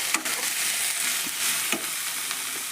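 Fenugreek leaf curry is stirred into a spiced tempering in a pan, giving a continuous close sizzle. A few soft scrapes of the spoon break through, and there is no speech.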